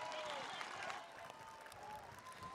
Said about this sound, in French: They get a great applause from the crowd as this one jumps the hurdle in front of the crowd now